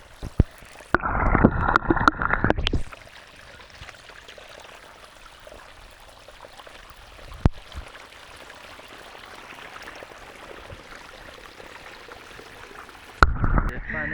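Irrigation water rushes into a farm field in two loud bursts of gushing flow, at the start and again at the end, separated by a long quieter stretch of soft trickling outdoors.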